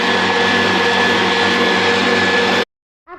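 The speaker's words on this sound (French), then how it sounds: "Et on va mélanger à la vitesse maximale" An electric hand mixer whirs steadily at maximum speed through cake batter tinted with yellow and pink food colouring, a loud, constant motorised drone that cuts off abruptly, followed by a short snatch of voice.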